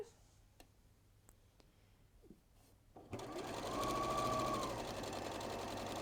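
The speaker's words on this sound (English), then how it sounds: "So we'll stitch down there, removing the pin as we go." A sewing machine stitches a quarter-inch quilt seam: after a few faint clicks from handling the fabric, the motor starts and runs as a steady close whirring chatter that carries on to the end.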